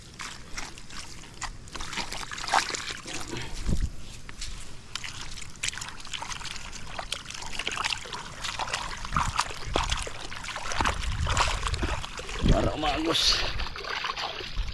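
Water trickles and gurgles steadily through a field channel nearby, with occasional splashes, while a person talks over it.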